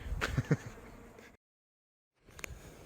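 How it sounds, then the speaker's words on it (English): Bees swarming around a crowded backyard hive set up as one deep box and two mediums, their buzzing steady and close, broken by a sudden gap of silence before the hum returns. "All that space is filled with bees."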